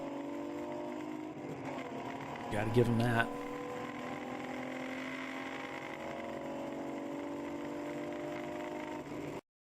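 An endurance race car circulates on the Mid-Ohio track, its engine a steady mid-distance drone under continuous commentary, with a brief louder burst of sound partway through.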